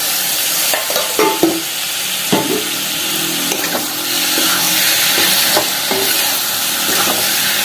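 Prawns fry in a pan over softened tomatoes, a loud, continuous close-up sizzle with bursts of spatula scraping and stirring at the start.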